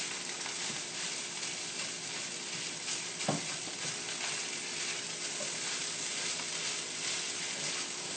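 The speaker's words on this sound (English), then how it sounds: "It's one whole piece, so I'm going to chop it up with my spatula and mix that in." Fried rice with chopped egg sizzling in a pan, a soft, steady fry with an occasional scrape and knock of a spatula, fairly quiet and without talk.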